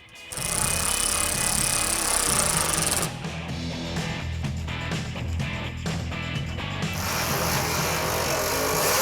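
Fender bolts on a Mopar B-body car are run in with a power tool, giving a loud, steady mechanical rattle that continues throughout with a short break in pitch partway through.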